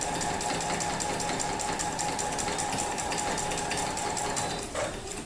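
A sewing machine runs steadily at close range during free-motion quilting, travel stitching along an existing stitch line with a fast, even mechanical whir and needle chatter that never pauses.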